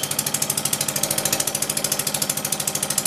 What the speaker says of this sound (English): I've got the engine running faster than normally would.